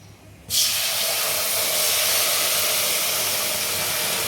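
Hot water poured into frying mung dal, a loud steady sizzling hiss that bursts in suddenly and holds strong to the end, with no talking.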